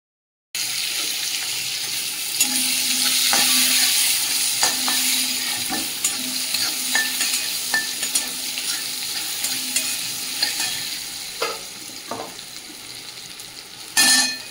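Mango pieces frying in hot oil with dried red chillies and five-spice, a continuous loud hiss and sizzle with repeated scraping stirs and clinks from a spatula, and a brief louder clatter near the end.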